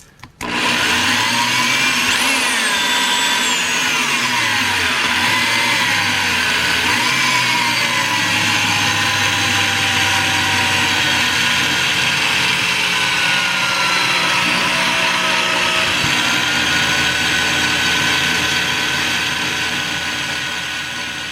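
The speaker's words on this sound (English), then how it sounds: "Alright, we got all of our holes drilled now." A power drill bores holes through a leather sheath, giving a continuous close mechanical whir whose pitch rises and falls as the speed changes, running steadily for about twenty seconds.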